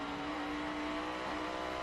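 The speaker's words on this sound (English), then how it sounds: "You hear the 6 car get up on the rev limiter." Race car engine at a 2012 NASCAR road course event at Watkins Glen, bouncing off the rev limiter when held too long in a lower gear: a sustained, loud, buzzing high-rpm drone with a steady pitched tone, close and alone without talk.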